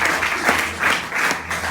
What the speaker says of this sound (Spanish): Dale fuerte el aplauso al Señor en esta noche